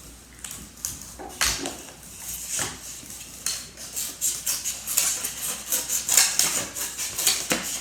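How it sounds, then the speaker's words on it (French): Scissors or a craft knife snipping and cutting through a decorated Easter egg, a run of crisp, close cuts and scrapes that keep up a steady rhythm throughout, with small clicks between them. "On découpe l'œuf."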